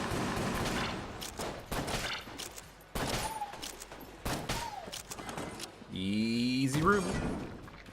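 Rapid gunfire from the game Enter the Gungeon crackles in dense bursts, with a speaking voice over it and tonal game effects near the end.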